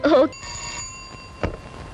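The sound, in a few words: telephone ringing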